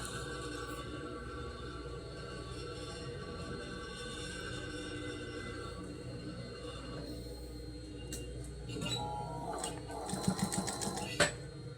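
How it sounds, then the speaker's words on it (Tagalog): A sewing machine stitches the hem of a garment in a sportswear workshop, giving a quiet mechanical whirr that builds into louder, rapid clattering bursts near the end. "Kaya, eto, mananahi ako, magre-repair. Tatahin ko lang naman yung laylayan."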